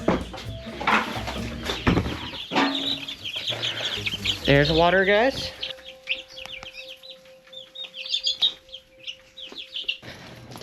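Homestead chickens cluck and chirp in short bursts around a person who speaks briefly, with water splashing and running in a steady stream near the end.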